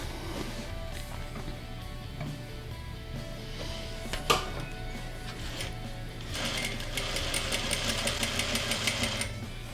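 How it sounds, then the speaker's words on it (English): A sewing machine top stitches the band of a half circle skirt, running steadily with a continuous mechanical hum that speeds into a faster, louder rhythmic chatter in the final few seconds. "then I will start my top stitching so that when I want to turn my band"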